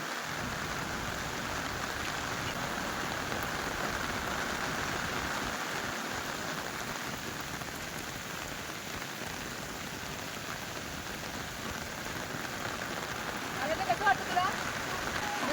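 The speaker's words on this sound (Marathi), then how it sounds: "पाऊस पडते खूप छान बघा तुम्ही आणि आम्ही बाहेर आले" Steady heavy rain hisses and patters on surfaces throughout, a dense continuous wash of sound with no pauses.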